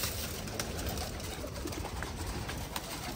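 Hungry pigeons coo softly and repeatedly while feeding on grain, amid faint rustling and background hiss, the low calls quiet and fairly close.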